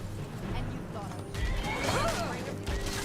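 In the video game Skyrim, a horse gives a rising and falling whinny amid game background sounds, while a person talks over it.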